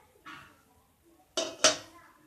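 A metal lid comes off a pot of steamed sweet modak dumplings after cooking, with a faint scrape, then two sharp close metallic clanks of lid on pot and no talking.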